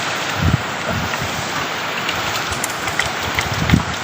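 Steady, dense rain hisses continuously, with a few heavier thumps of drops now and then.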